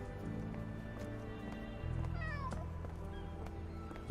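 A cat meows in a Sherlock Holmes detective video game, short mewing calls over a low humming ambient background, with a small rising chirp in the middle.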